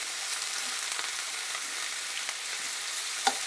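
An antelope steak frying in a pan gives a constant close hissing sizzle with soft crackles and one sharp pop near the end, no voices.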